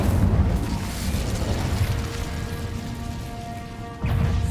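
A fire spell erupts in a wizarding video game, a steady roaring whoosh of flame that holds for several seconds before a fresh surge near the end, no voices over it.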